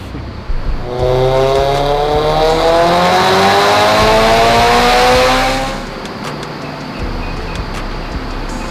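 A tuned Mitsubishi Lancer Evolution X screams through a dyno pull, its engine note climbing steadily in pitch through the revs for about five seconds before dropping back to a lower rumble.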